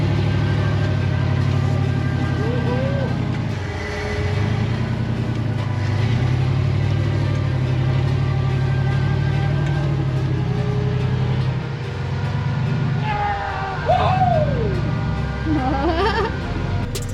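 An off-road rock buggy works a trail obstacle, its engine droning steadily near and loud with throttle surges as the tires hunt for traction, while tire squeals or whines rise briefly toward the end.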